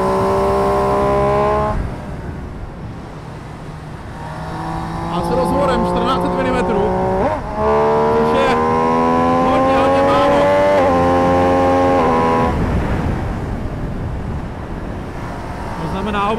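An MV Agusta Brutale 800 RR motorcycle engine revs and climbs through rising and falling tones, fairly loud, with someone talking over it throughout.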